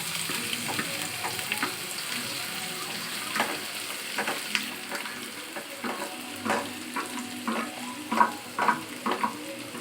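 Chopped onions frying in a pan for a veg sandwich, a steady close sizzle with frequent spatula scrapes and light clinks as they are stirred toward golden brown.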